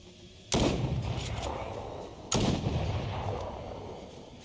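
Two loud gunshots in the video game Fortnite, each a sharp blast about two seconds apart with a lingering rumbling tail, over a steady background of game ambience and no talking.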